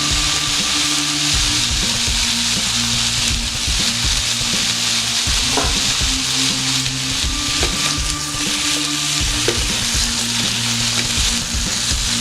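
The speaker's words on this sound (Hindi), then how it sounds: "एक 3 to 4 मिनट अच्छे से इसको फ्राई करेंगे।" Chicken with onions and salt frying in a pan: a loud, continuous sizzle close by, broken by repeated scraping knocks as the pieces are stirred, with no one talking.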